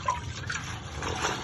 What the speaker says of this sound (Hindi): तो ठंडा पानी डाल रहा हूँ, इससे इसका जो कुकिंग का प्रोसेस है वो रुक जाएगा।